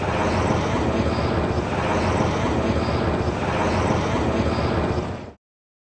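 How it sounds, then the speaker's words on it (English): A low helicopter passes directly overhead in Los Angeles, a loud, steady rotor and engine roar that holds for several seconds before cutting off abruptly, with no talk. "that's a helicopter, but I live in LA proper"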